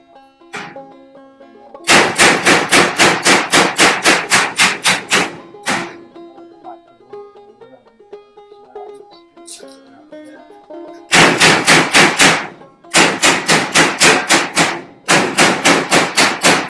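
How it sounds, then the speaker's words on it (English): A slag hammer chips slag off a weld during a pole barn build, making two long runs of rapid, loud metallic blows with quieter clinks and scraping between them. "Beat the slag off of it and put it back up"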